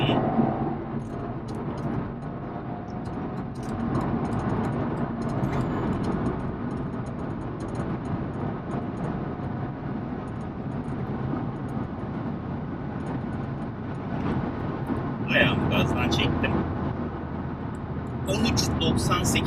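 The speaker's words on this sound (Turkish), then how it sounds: "Yolun müsaade ettiği şekilde bir kere daha şöyle gaza bastım" Tuned BMW G20 320i with a 300+ hp software remap accelerating hard on an open road: a steady, loud engine drone building over the run, with some talk heard over it.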